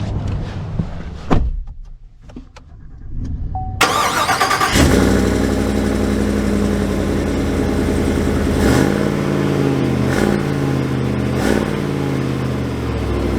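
A gas 6.6-liter Chevy Silverado HD with a 10-speed automatic pulls away after a few quiet clicks. The engine swells into a loud, steady drone, and the pitch steps as each gear shifts.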